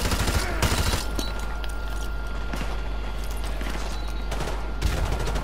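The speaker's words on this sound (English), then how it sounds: "probably should use the LMG for this" Light machine gun fire in Call of Duty Modern Warfare 2 comes as dense rapid bursts, loud and close, over a heavy low rumble of battle noise, with a short pause between volleys.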